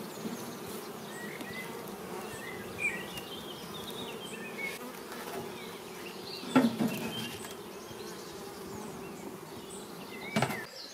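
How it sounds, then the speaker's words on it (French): Honeybees buzzing around beehives on a warm morning, a steady hum of insects near and far with a few louder passes close by, and faint birdsong in the background. "les abeilles sont encore très peu sorties, ça commence"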